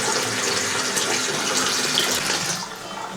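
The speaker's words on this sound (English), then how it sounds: "we should be able to put in the faucets." Water streams steadily from a newly installed faucet on a master bathroom vanity, a loud, continuous rush that tapers slightly near the end, with no voices.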